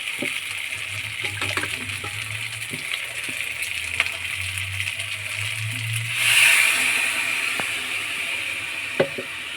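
Water poured into fried spice paste made with ground sesame and peanuts for a meat curry, a steady sizzle and bubbling up close, swelling into a brief louder gush partway through.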